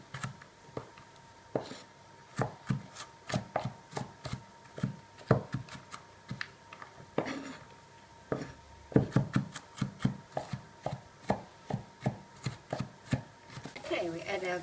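A knife chops garlic cloves coarsely on a board for Greek stifado, giving soft, quick, uneven taps that come close together in a steady run, recorded up close and fairly quiet.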